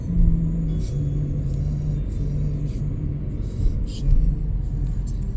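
Cars passing at a Disneyland Hotel parking area, a steady low road rumble with engines droning close by and brief tire and engine swells, loud and continuous with no break.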